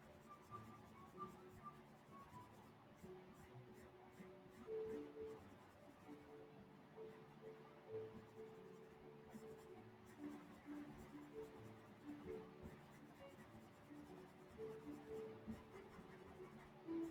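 Pencil scratching softly on paper in slow circular strokes, a faint, continuous rustle with gentle rhythmic swells and no talking.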